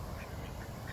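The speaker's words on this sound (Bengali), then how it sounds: "এই পার্কের পুরাটাই ভিতরে হাঁস ভরা।" Ducks quack faintly in a park pond stocked with ducks and fish, several short calls overlapping above a low, steady outdoor rumble.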